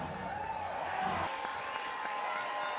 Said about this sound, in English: This crowd has really come to life ever since those 3 runs were taken off the board last inning.